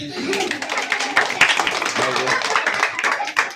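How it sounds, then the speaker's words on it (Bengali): Children clapping their hands together in a burst of applause indoors, a dense patter of claps close by with voices mixed in. "হাততালি"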